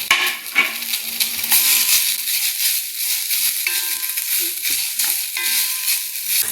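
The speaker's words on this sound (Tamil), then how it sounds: "புதினாயை போட்டுக்குவோம் ஒரு ஒரு பச்சை மிளகா இஞ்சி வெள்ளப்பூ போட்டு நல்லா வதக்கிடுவோம்" Mint, green chili, ginger and garlic sautéed in a pan, a close sizzle with scraping stirs and soft clatter, strongest at the start and then a steady frying hiss with no voices.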